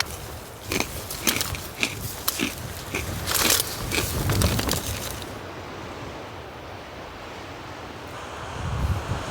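Wasabi peas crunched up close at a snowy winter campsite during a blizzard, a run of sharp crackling bites over steady wind, then the chewing stops and only wind noise remains.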